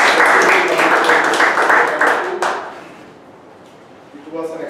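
A big round of applause from an audience at a Toastmasters meeting, dense steady clapping for about two and a half seconds that fades out, followed by quiet and then a voice speaking.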